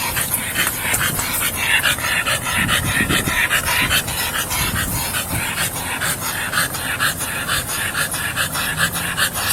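A dog left in a car in 100-degree heat pants rapidly and steadily, close and loud throughout, with traffic and street noise behind it.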